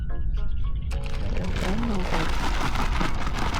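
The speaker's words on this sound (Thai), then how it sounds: "เฮ้ยฝนจะตก" Heavy rain pours down steadily while trees are being planted outdoors, a loud dense wash of drops throughout, with a brief rumble and a voice in the first second.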